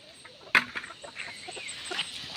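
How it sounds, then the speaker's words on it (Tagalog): Chickens on a family farm in the mountains cluck in a loose, irregular scatter, with one sharper squawk standing out near the start against a steady outdoor background. "Ito po yung mga manok nila guys oh."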